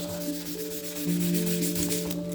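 Scrap-wood floorboards are scuffed by hand with 180 grit sandpaper, a soft continuous rubbing close by.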